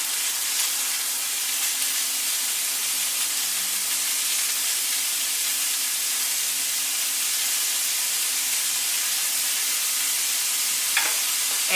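Garlic and herb chicken frying in a pan, a steady close sizzle and hiss that continues without a break, with faint stirring clinks near the end.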